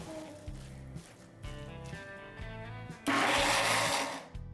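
A kitchen mixer grinds soaked chickpeas and coriander into falafel paste, first in short rhythmic pulsing bursts, then a louder continuous whirring grind near the end, close and without talk.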